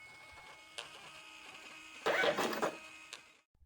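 A thermal receipt printer automatically prints incoming online orders, giving a steady whirring feed with a louder burst of printing mechanism noise midway and a few sharp clicks, heard alone at moderate level.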